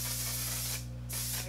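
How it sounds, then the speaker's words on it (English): A mattifying setting spray mists onto the face in two steady hissing bursts, close and fairly loud, separated by a short pause, with no talking. "I'm going to use a mattifying setting spray."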